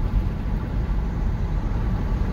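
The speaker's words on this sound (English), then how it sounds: "You hear that car? Truck?" Traffic passes on a 45 mph road on a nice day, heard through the open window of a moving 2015 Chevrolet Volt: a steady low rumble of road and engine noise with no distinct single pass-by.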